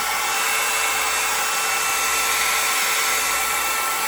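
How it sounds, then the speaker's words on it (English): A heat gun blows a loud, steady broadband whoosh of air, warming acrylic resin in a paint pour. The noise runs constant throughout with no speech. "So now I will use my heat gun and warm up this resin a little bit."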